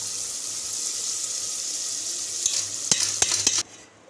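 Mustard greens for sarson ka saag sizzle steadily in a pan, with a few clattering stirs near the end before the frying noise cuts off abruptly.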